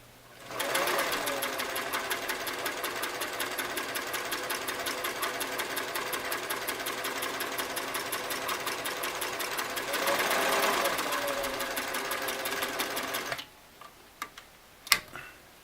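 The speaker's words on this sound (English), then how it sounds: "I will start with a straight stitch, center needle at the longest stitch, number 6 stitches per inch" A restored Singer Model 337 sewing machine runs a long straight stitch at six stitches per inch, giving a close, steady rapid ticking whir. It swells briefly near the end, then stops, leaving a few clicks and handling noises.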